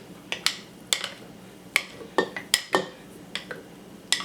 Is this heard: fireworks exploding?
no